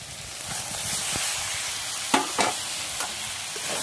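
Potatoes being stirred with turmeric and chili powder in a frying pan, a steady hiss of frying oil with a few louder scraping stirs near the end.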